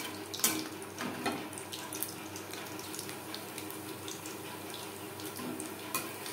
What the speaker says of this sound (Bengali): কাঁকরোল একটু সময় নিয়ে ভাজবো